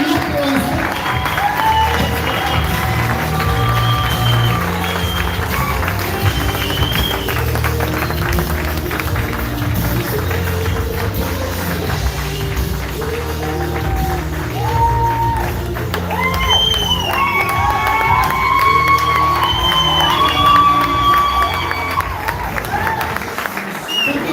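A large audience at a corporate kickoff event applauds and cheers steadily, with whoops and shouts rising over continuous clapping for the whole stretch, loud and close.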